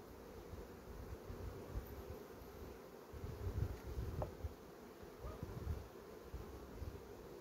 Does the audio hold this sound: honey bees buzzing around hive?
yes